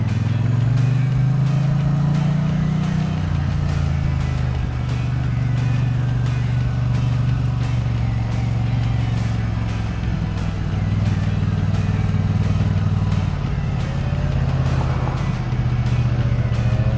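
Triumph Bonneville T100 motorcycle riding through city streets in Chicago's Pilsen, a steady engine drone with wind rush and gentle throttle changes heard close from the rider's position throughout.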